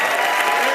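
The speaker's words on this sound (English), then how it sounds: "It's always good to hear applause for OJ." Brief burst of steady audience applause for O.J. Simpson at a Saturday Night Live–style show, a dense wash of clapping with no break across the short moment.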